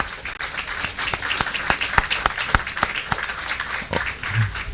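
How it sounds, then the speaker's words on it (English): Audience applause fills the official opening of the Lacovia Police Station: steady, dense clapping from a crowd that holds at an even level for the whole stretch. "I'm going to actually take a moment to give her a round of applause."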